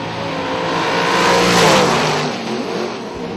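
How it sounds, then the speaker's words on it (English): A race car accelerates hard, its engine roaring loud and close, swelling to a peak midway as it tears past, then easing off, with no voices. "This kid can drive a race car."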